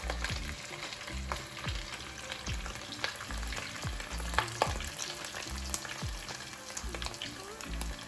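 Pork carnitas frying in hot oil give a steady, close sizzle with crackling pops and a few soft clinks from long tongs, with no one talking.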